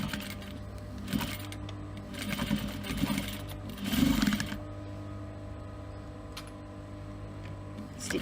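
Sewing machine stitching down fabric on a clutch purse, a steady close mechanical whir with a faint hum and small irregular clicks, no talking.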